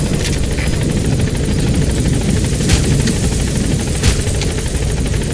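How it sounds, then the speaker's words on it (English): Support helicopter in the Metal Gear Solid V video game arriving at a landing zone, a loud, close, continuous rotor roar with rapid chopping beats throughout. "Support helicopter has arrived."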